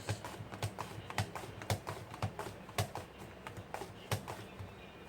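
A knife slices through zucchini on a cutting board, producing a quiet series of sharp, fairly regular chops, about a dozen in five seconds, close by with no talking.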